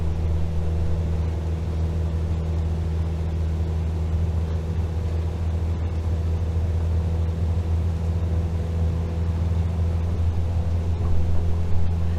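A simulated aircraft engine at full power in Microsoft Flight Simulator hums as a steady, loud, droning tone with strong low harmonics, unbroken and alone throughout.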